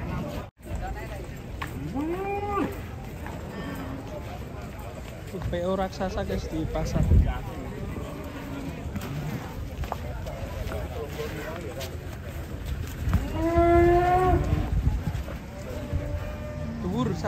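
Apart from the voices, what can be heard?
jumbo cattle mooing at a livestock market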